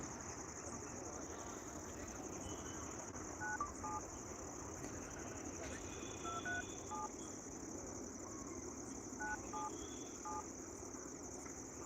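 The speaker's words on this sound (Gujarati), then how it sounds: "આપણે ફોન કરવી બીજા ફોનમાંથી" Keypad tones beep faintly in short clustered groups as a call is dialed from a second phone on a rice-paddy threshing floor, over a steady outdoor hum with insect chirping.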